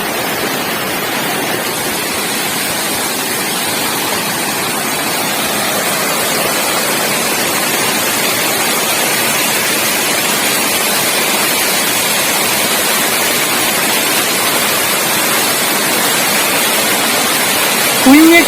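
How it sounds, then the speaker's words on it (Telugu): The Rajadhar waterfall in the hills roars steadily nearby, a dense, unbroken rushing wash of water that stays loud throughout. "మీరు చూస్తున్నారు వాటర్ ఫాల్స్"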